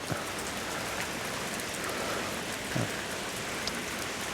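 Steady September rain pours down on surfaces in Thailand, a dense continuous hiss with occasional louder drops close by.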